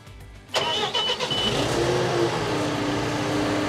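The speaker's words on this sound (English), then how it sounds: "Now we can turn the key and start the engine." The engine of a Keestrack K6 mobile screen cranks and fires up abruptly, then settles into a loud, steady running rumble close by, alone without talk.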